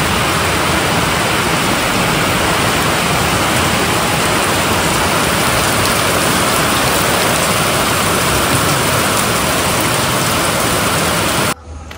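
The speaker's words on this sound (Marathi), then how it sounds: "खूप जोरात चालू आहे पाऊस" Heavy morning monsoon rain pours steadily at a hillside resort near Wai and Mahabaleshwar, a dense, unbroken roar with no talk, cutting off abruptly just before the end.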